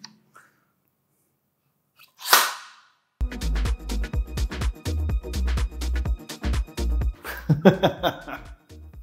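A homemade spring-loaded Wolverine claw mechanism snaps its blades out with one sharp metallic burst at close range, followed by a run of busy clattering and rattling knocks.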